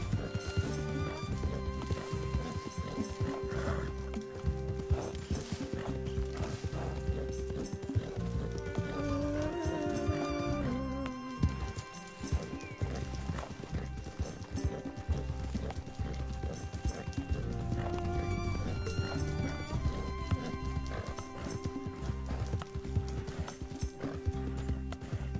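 A horse in Red Dead Redemption 2 gallops with steady, continuous hoof clip-clop and neighs a few times, set against a dense game soundtrack and ambience that runs throughout.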